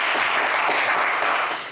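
Studio audience applauding a game show contestant, a dense, steady wash of clapping that stays loud throughout and tapers slightly at the end.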